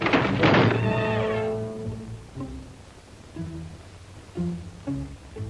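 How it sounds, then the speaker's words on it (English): A loud wooden shutter bangs against a window once as the wind blows, the thud ringing out and fading, followed by a few fainter knocks and creaks. "The wind slammed a shutter against a window."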